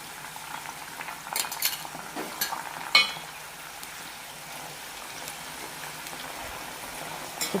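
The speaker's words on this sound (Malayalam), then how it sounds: "ഇനി ഇതിലേക്ക് കുറച്ച് ഉപ്പുവെള്ളം കൂടി തളിക്കാം" Salted water is sprinkled into a pan of sweet potato chips frying in hot oil, setting off a flurry of spitting crackles and pops over the continuous sizzle before it settles back to an even fry.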